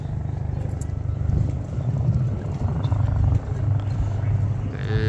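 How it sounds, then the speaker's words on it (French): Helicopters fly over Los Angeles, a low rotor thrum running steadily beneath someone talking, with some background traffic. "Et le balai des hélicos."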